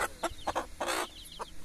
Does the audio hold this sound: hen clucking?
yes